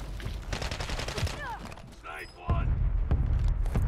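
Gunfire in a Call of Duty match, bursts of rapid shots near and loud, with game effects and a voice talking over parts of it.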